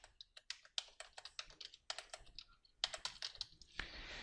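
Rapid, uneven keystrokes on a computer keyboard as a column title is typed into a spreadsheet-style component list, clicking close and steady in short bursts with brief pauses between.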